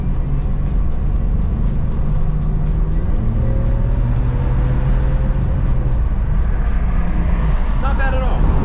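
BMW E36 car accelerates onto a highway outside Raleigh, its engine note climbing through rising tones and a gear change, a loud in-cabin drone with road and wind noise, and a voice speaking over it.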